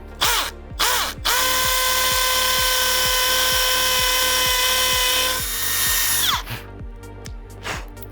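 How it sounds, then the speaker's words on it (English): A power drill bores a hole into a concrete pool wall, a loud steady whine running several seconds between short bursts, then winding down, over a rhythmic mechanical ticking throughout. "We're going to drill our hole."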